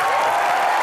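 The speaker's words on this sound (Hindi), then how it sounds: "जोरदार तालियां।" Studio audience on the Comedy Nights With Kapil set breaks into loud, dense applause, a brief continuous wash of clapping heard up close.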